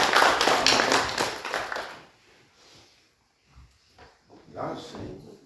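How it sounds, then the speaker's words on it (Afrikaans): An Easter church congregation claps together, a dense burst of many hands that lasts about two seconds and then dies away. Scattered thumps and faint voices follow in a quiet room. "Kom ons gee hulle 'n lekker hande klap."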